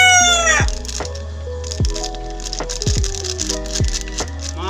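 Chickens and roosters in a small coop, loud and close: several drawn-out rooster crows in succession over a steady background of clucking hens.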